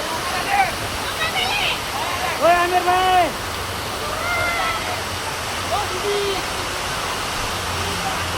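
Steady roar of the Banje waterfall on the Pune–Lonavala route fills the clip, with a man calling out loudly over the rushing water.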